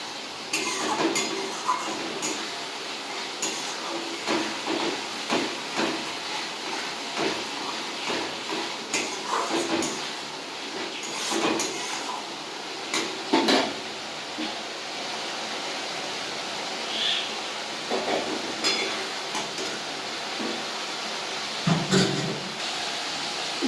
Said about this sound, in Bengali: এবার আমি এই মশলাগুলো ভালো করে ভেজে নেব যতক্ষণ না তেলটা উপরে উঠে আসছে